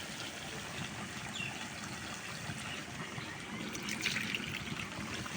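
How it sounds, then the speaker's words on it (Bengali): Potatoes are rinsed under running water, a faint steady trickle and splash heard quietly and continuously with slight swells in volume. "আলুগুলো আমি এখন হচ্ছে ধুয়ে নিচ্ছি।"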